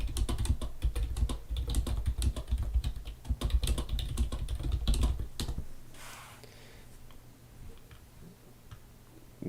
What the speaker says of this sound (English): Just going to type in here.